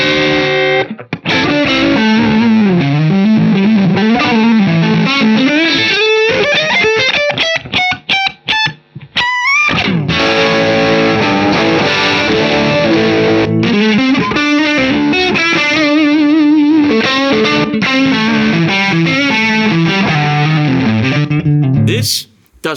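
An electric guitar played through an overdrive distortion pedal rings out with driven, gritty chords and single-note lines, loud and close, with a brief pause midway.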